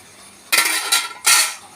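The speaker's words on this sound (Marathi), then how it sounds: "आता झाकण काढून बघूया" A metal lid clanks against a kadai of besan jhunka bhurji in three sharp, bright scrapes and clinks, close and loud.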